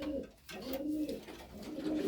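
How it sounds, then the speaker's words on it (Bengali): A pigeon in a loft gives low, rolling coos, two or three phrases close by with a short pause between them and a faint background hiss. "খুব সুন্দর এবং চমৎকার একটা কবুতর।"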